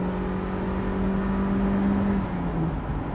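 A Mazda MX-5 engine is held at high revs, producing a steady, loud, buzzing drone that dips slightly in pitch near the end, with no talking.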